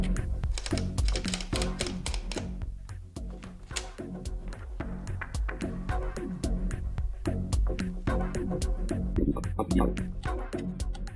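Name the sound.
electronic braille typewriter typing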